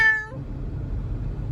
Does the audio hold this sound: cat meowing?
yes